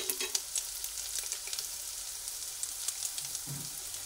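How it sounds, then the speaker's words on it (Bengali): Ginger fries with onions in a pan for a potato stuffing, a steady crackling sizzle broken by sharp little spatula taps and scrapes, heard up close with no one speaking. "আদা অল্প করে ভেজে নিলাম।"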